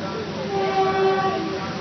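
A train at a Sri Lanka railway station, with a sustained horn tone drawn out over a rumbling, steady rail noise, nearby and fairly loud throughout.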